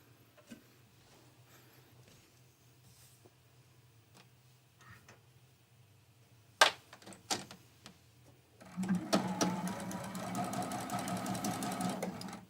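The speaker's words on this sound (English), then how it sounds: "So let's bring that to the sewing machine." Sewing machine stitching a quarter-inch seam on a small quilted mug rug, starting with scattered handling clicks and knocks, then running steadily in a fast, buzzing whir over the last few seconds.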